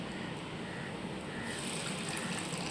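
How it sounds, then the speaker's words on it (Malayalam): Tamarind water is poured into a pot of Kerala-style fish head curry with tomatoes, a soft, steady trickle of liquid that swells slightly toward the end, faint and close, with no talking. "ആവശ്യത്തിനുള്ള പുളിവെള്ളം ഒഴിക്കുക"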